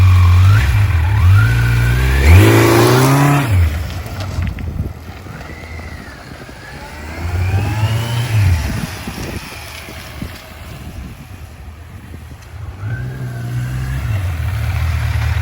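A motorcycle engine revs repeatedly in rising and falling sweeps during a launch with the rear brake applied, loud and close with heavy wind noise.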